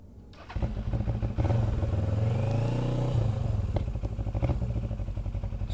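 A Suzuki GS500 motorcycle engine cranks and fires up without the choke, then settles into a loud, steady, close-up idle with a rhythmic throb.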